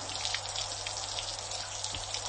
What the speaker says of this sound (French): la pluie, il ne manquait plus que ça.